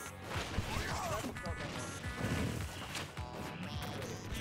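Meta Knight landing a forward smash in Smash 4: a sharp, heavy whack among several percussive game hits, loud and busy, with a commentator talking over the action.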